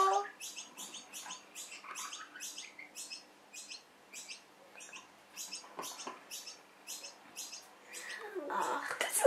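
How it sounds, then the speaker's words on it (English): Small birds chirp and tweet in quick repeated bursts, high and thin, fairly close but soft, with a faint voice or two underneath and a slightly louder rustle toward the end. "That bird heard that, even without the other bird making noise."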